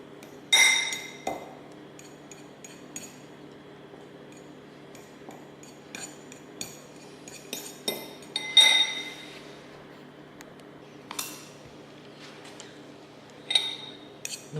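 Light metallic clinks and taps of a fork working six boiled egg yolks in a bowl, sparse irregular strikes against the dish in a quiet kitchen.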